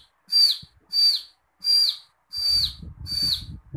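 A human voice imitating a baby chick calling for its mother: five evenly spaced high, thin peeping whistles, each with a short downward slide at the end, close and clear, with a low rumble under the last two.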